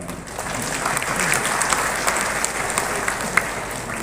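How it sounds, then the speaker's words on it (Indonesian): An audience claps through a university anniversary address in Indonesia, giving steady, dense applause that swells slightly and carries on with no speech over it. "Silakan kalau mau tepuk tangan."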